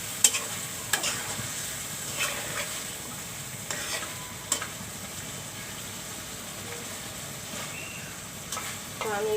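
Hilsa fish frying in spice masala, a faint steady sizzle with scattered spatula scrapes and clicks against the pan, quiet and close, with no speech.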